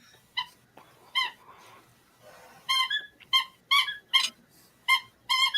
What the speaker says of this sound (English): Dog with a squeaky toy.